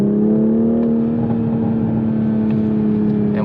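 A Toyota MK5 Supra engine hums at steady revs with a strong low drone and a few faint crackles, close and continuous, without talk.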